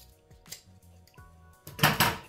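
Scissors snip through a fabric strap while a beach bag is being sewn: soft handling rustles and light clicks, then two close, louder crisp cuts near the end.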